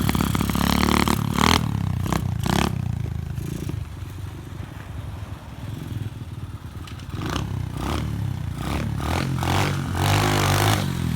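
An SSR 125 pit bike engine revs up hard in bursts with gear clunks and a rattling drivetrain, loud and close, the throttle rising and falling between gearshifts.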